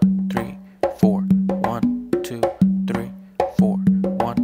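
An Afro beat played on congas: close, resonant open tones and sharp slaps in a repeating syncopated pattern, each hit ringing briefly before the next, with no talking.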